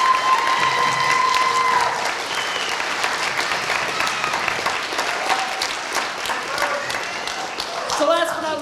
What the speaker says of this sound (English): So can we give all those people a big round of applause